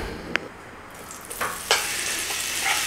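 Oil warming in a curry pan for chicken jalfrezi, a soft steady hiss with a few sharp clinks and knocks scattered through it.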